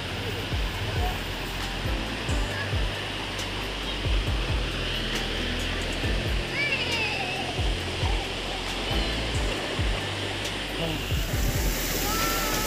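A small river runs low after dry weather, its shallow water rushing in a steady, continuous wash with a few low thumps underneath.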